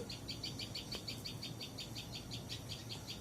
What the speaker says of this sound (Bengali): ওই পাখিগুলো নিতে পারতেছে না, অনেক ডাকাডাকি করতেছে।